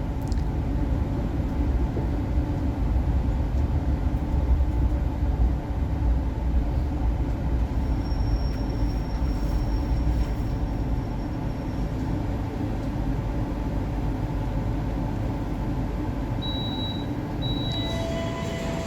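Passenger train at Kutoarjo station in Indonesia, the Fajar Utama Yogyakarta from Pasar Senen on track 5, rumbling steadily and moderately loud with a broad low rail hum, a brief thin squeal, and a few short high tones near the end.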